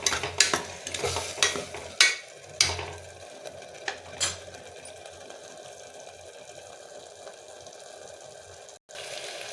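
Tomato paste frying in oil for tomato rice bath, stirred with a few sharp spoon clacks on the pan at first, then a steady soft sizzle continuing alone nearby.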